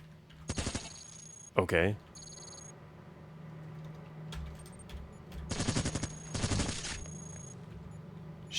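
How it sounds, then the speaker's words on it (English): Submachine gun fire in the video game Cogmind comes in a few rapid synthetic bursts, two of them longer, over a low background hum. A voice says one brief word. "Actually, let's use a submachine gun."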